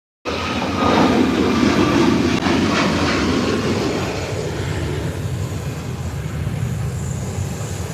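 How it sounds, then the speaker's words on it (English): A United airliner accelerates down the runway for takeoff, a loud rumbling engine roar that starts abruptly and holds steady, then eases slightly as the jet moves past. "United is tunneling down the runway."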